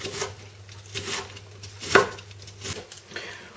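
A knife chops onion finely on a board, producing a few close, crisp strikes at an uneven rhythm, with one sharper knock midway.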